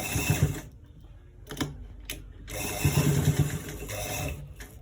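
A sewing machine stitches all around the top edge of a V-neck inner pocket in bursts, its motor whirring in short runs with brief pauses and a couple of sharp clicks between them, close and moderately loud.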